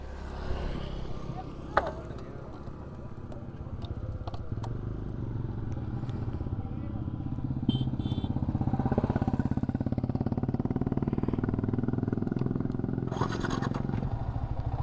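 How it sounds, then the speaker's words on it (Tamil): A Yamaha R15 V3 BS4 motorcycle cranks and fires up after petrol is added, then settles into a low, steady idle that grows louder and holds through the second half, with light clatter nearby. "வண்டி மறுபடியும் ஸ்டார்ட் பண்ணி பார்ப்போம் ஸ்டார்ட் ஆகுதா என்னன்றது."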